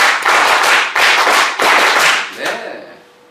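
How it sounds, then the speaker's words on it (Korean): A lecture hall audience claps in unison, loud rhythmic bursts of group clapping repeating at a steady beat before tapering off at the end. "박수 10번 시작"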